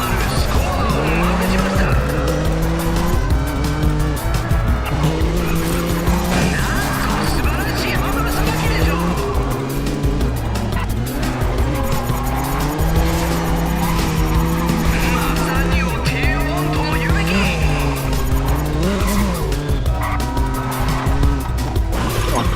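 Race cars drifting in the video game Race Driver GRID, with continuous loud engine whine and repeated tire squeals that rise and fall over a steady engine drone.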